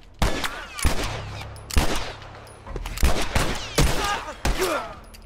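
Gunfire in The Last of Us Remastered, a series of loud separate shots and short bursts roughly every half second to second, close and punchy with brief echoing tails, no talk.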